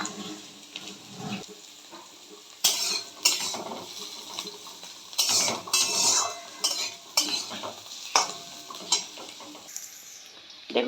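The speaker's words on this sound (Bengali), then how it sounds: "আমি ক্যাপসিকামটা দিয়ে দিচ্ছি। ক্যাপসিকামটা একটু ভালো করে ভাজা করে নেব।" Capsicum is stir-fried in a pan with carrot, a soft sizzle broken by repeated loud scrapes and clinks of a spatula against the metal in an uneven rhythm.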